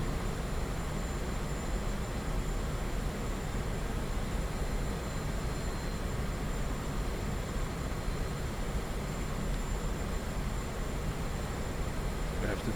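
A MiG-15 jet engine held at cruise throttle around 9,500 RPM in the DCS flight simulator, a steady, dense broadband roar that stays constant throughout with no talking.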